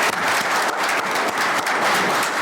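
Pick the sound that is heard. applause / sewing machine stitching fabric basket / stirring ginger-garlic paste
applause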